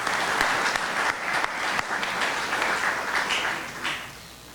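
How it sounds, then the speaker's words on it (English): Round of applause from an audience at a Rotary meeting, dense clapping with a few sharper individual claps standing out, gradually thinning and tapering toward the end. "So let's give them a round of applause."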